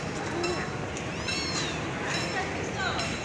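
A cat meows inside a vehicle: a few drawn-out, rising-and-falling cries over a constant road rumble, with people talking nearby.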